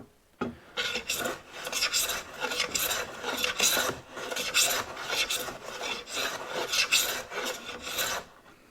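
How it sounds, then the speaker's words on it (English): An antique stop chamfer hand plane works along a piece of wood in repeated rasping strokes, each a short scraping swish in a steady back-and-forth rhythm, close and clear with no talk. "what I'm doing is favouring this end as I'm planing"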